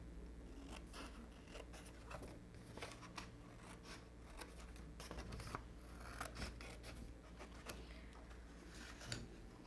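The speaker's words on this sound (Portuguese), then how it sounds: "E aqui agora eu corto ao meio." Scissors snip through scrapbook paper, cutting a sheet in half for a craft panettone holder, a steady run of crisp close snips and paper rustles with no talking.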